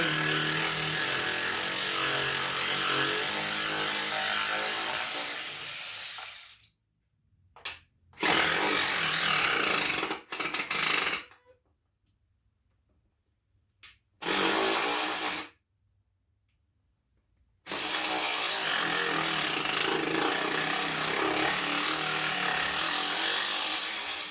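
A power ratchet or impact tool with a 3/8 socket backs off the deck shield bolts on a Poulan Pro riding lawn mower, running in loud, close whirring bursts broken by several short silent pauses.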